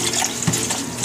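Tap water runs steadily into a sink while a dish is rinsed during soap making, a close, continuous splashing hiss with no talk.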